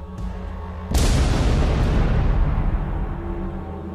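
A musket volley fired in a historical reenactment of the Pilgrims' arrival: a single heavy, loud boom that erupts sharply and rolls into a long, slowly fading rumble, with no voices.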